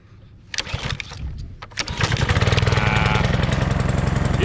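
A pressure washer's small engine is pull-started, a couple of rattling cord pulls and coughs before it catches and runs into a loud, steady, throbbing drone up close.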